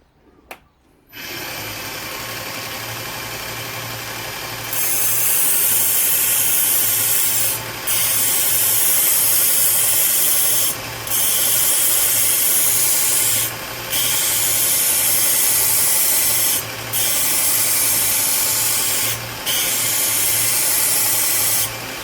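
A blade is sharpened on a Harbor Freight 1x30 belt sander: the motor spins up, then a loud hissing, rubbing grind comes in repeated passes of a few seconds each with short breaks between.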